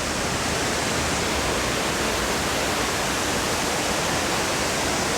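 Milky white water rushes down a waterfall near Nainital, a loud, dense, unbroken roar heard up close with no voices.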